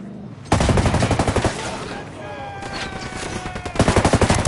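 Automatic rifle fire in the tactical shooter Ghost Recon Wildlands, loud close bursts of rapid shots that start abruptly, ease into a sustained rattling exchange and finish in another hard burst.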